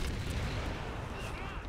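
Gunfire rings out in co-op play of the video game Resident Evil 6, a dense, loud burst of booming shots and rumble that fills the brief moment without pause.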